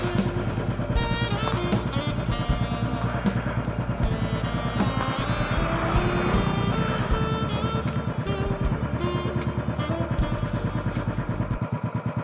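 A motorcycle engine runs steadily while riding, with a loud, close, rough, pulsing drone and rattling clatter throughout, no talk.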